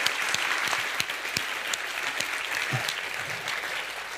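Sustained audience applause at an Estonian investment strategy talk, dense steady clapping from a room full of people with a few sharper individual claps standing out, no voices over it.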